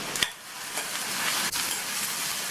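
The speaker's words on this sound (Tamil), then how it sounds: "இப்போ 1 நிமிஷம் போல வதக்கி விட்டுக்கணும்." Shallots, garlic, green chilli and curry leaves sauté in oil, a brief continuous sizzling hiss with a couple of faint stirring knocks.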